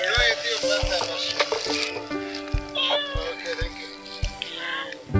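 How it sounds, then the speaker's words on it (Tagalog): Stray cats being fed outdoors meow repeatedly, several overlapping cries close by, while people talk over them and rhythmic low thumps sound in the background. "Pinapakain nila yung mga pusa."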